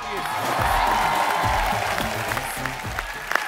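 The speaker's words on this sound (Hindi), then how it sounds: "आप सबकी जोरदार तालियों के बीच बुलाना चाहूंगा" A television studio audience applauds loudly with scattered cheers and whoops, a dense continuous clatter of clapping that slowly eases.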